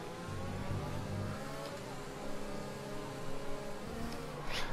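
A Formula 1 car engine in the F1 2020 racing game drones steadily up close, with a low, rough tone that surges in a couple of places and no talking.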